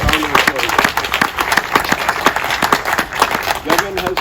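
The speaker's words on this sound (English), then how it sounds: "Give him a good round of applause." A gathering hosted for a politician breaks into a round of crowd applause for a Member of Parliament, steady clapping that runs under a speaking voice throughout.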